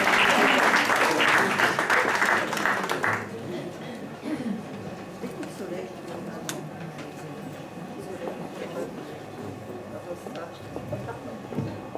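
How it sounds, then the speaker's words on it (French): A theatre audience applauds loudly for about three seconds at a Valentine's Day variety show after a song, then the clapping thins to scattered claps and murmurs. "On applaudit Corinne."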